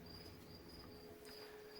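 Crickets chirp outdoors in a quiet setting, a steady high trill running faint and continuous over a low background hiss.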